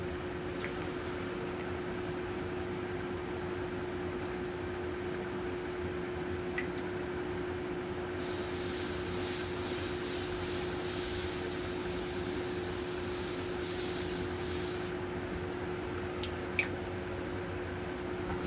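An airbrush sprays Payne's Gray paint lightly over a skull stencil, a steady hiss of air and paint that starts midway, holds for several seconds and cuts off, over a constant low hum.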